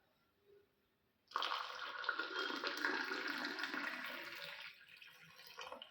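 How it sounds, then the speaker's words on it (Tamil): Hot water pours steadily into a small vessel to mix facial powder for a home facial, a continuous splashing rush that starts abruptly after a quiet moment and runs for several seconds before tapering slightly. "அப்புறம் வந்து வெந்நீர் தண்ணி."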